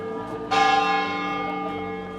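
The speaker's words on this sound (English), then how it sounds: "we even get to hear one of the bells chime" One loud stroke of a church bell in a Seville tower rings out close by, its bright metallic tone swelling then ringing on and slowly fading.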